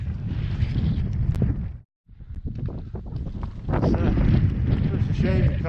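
Strong wind roars and buffets the microphone high on Glyder Fach, a foggy mountain, with a dense continuous rush that cuts out abruptly for an instant before surging back even louder.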